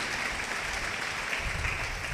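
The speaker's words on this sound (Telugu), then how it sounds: "గట్టిగా చప్పట్లు కొట్టండి గట్టిగా" A church congregation gathered for a sermon on fasting claps together in dense, steady applause, close and continuous throughout the short stretch.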